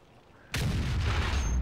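A high-explosive tank round slams home in World of Tanks, an abrupt heavy boom after brief quiet, followed by a sustained loud roaring rumble that lingers to the end.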